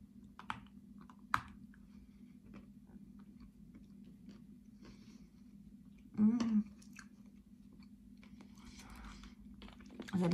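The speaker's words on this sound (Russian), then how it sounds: "Откусывается с ним с небольшим усилием." Biting into and chewing a dense, sticky Kyrgyz snack, a firm bite with a little effort; soft close-up crunches and mouth sounds scattered across the clip, with one louder burst midway and faint background hum.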